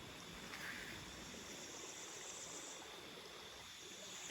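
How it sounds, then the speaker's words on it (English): Two streams of flowing water meet outdoors among fruit and coconut trees, producing a continuous rushing, gurgling wash with no pauses and no voices. "Now this is where stream 1 meets stream 2."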